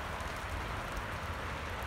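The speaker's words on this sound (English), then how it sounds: "But this is definitely a little hailstorm that has developed." A small hailstorm falls over Calgary in May, producing a dense, steady patter that stays even and continuous throughout, with no voices.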